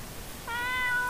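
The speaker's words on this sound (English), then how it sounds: "That cat is so adorable." A cat meows in the video game Ib: a single drawn-out, tonal meow that starts about halfway through and holds steady, close and clear over a quiet background.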